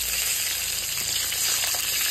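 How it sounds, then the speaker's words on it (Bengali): Fish pieces frying in hot oil in a home kitchen for Bengali New Year cooking, a continuous, close, even sizzle with a bright hiss and no talking. "বাকি মাছগুলো আমি ভেজে নিচ্ছি।"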